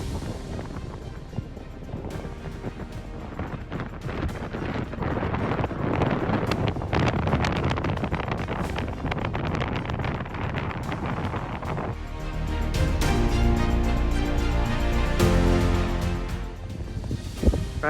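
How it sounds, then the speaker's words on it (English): Strong wind gusting across a cold mountain height in the Alaskan far north, buffeting the microphone with loud, continuous roaring rumble that swells and eases, with no talk. "it's super cold and windy up here"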